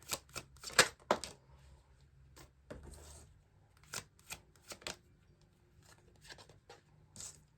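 Tarot cards shuffled by hand, quick close riffles and flicks in short irregular bursts with quiet pauses between, soft and without talk.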